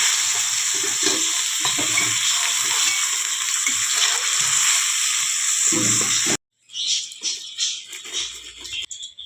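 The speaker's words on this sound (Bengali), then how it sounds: "এবার পনির হালকা করে ভেজে নেব" Cubes of paneer fry lightly in a pan with a bright, steady sizzle and occasional soft stirring knocks, which cuts abruptly and gives way to a quieter, uneven crackle.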